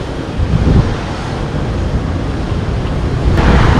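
Strong wind gusts buffet the microphone on a beach in Da Nang ahead of a typhoon, a loud, steady low rumble with surf-like wash and slight swells in force.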